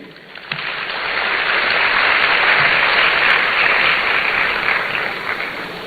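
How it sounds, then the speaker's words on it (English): At the launch of a student entrepreneurship programme in Ghana, an audience breaks into sustained applause, a broad hiss of many clapping hands swelling after the first second, holding steady, then easing slightly toward the end. "A round of applause for Rashid Ibrahim Esquire once again"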